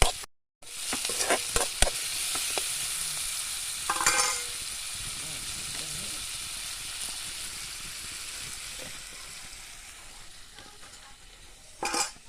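Onion, green chili and curry leaves fry in a pan for dried shrimp podi, giving a steady close sizzle with scattered stirring clicks and knocks at the start and end.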